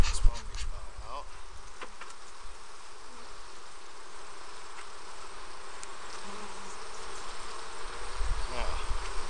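Honey bees drone and buzz continuously around an open hive during an inspection, a dense close swarm hum with occasional louder passes near the microphone and faint handling noises.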